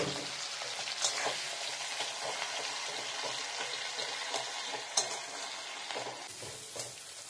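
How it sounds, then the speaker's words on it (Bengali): Chopped onions frying in hot oil with whole garam masala and dried red chillies, a steady close sizzle and crackle with occasional stirring scrapes and clinks, no voices. "তারপর পেঁয়াজটা ভাজা হচ্ছে"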